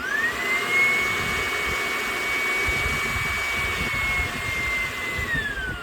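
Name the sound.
pool equipment air blower running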